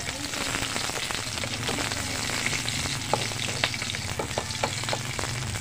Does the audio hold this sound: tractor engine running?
no